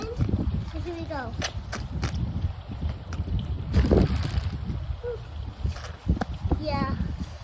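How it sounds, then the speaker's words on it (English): Strong wind blows outdoors and rumbles across the microphone in continuous gusts, while voices talk over it and birds chirp now and then. "they said there's gonna be a strong wind"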